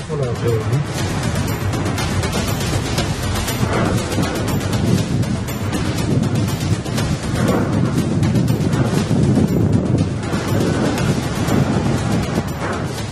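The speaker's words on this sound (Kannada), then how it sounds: "ದಟ್ಟವಾದ ಕೆಂಪು ಹಳದಿ ಬಣ್ಣದ ಮರಳಿನ ಗಾಳಿ ಇಡೀ ನಗರವನ್ನ ಆವರಿಸಿಕೊಳ್ತಾ ಇರುವ ಭೀಕರ ದೃಶ್ಯಗಳು" A sandstorm in Rajasthan blasts dense, roaring wind across a city, a loud and steady broadband rush with gusty swells that continues unbroken from start to finish.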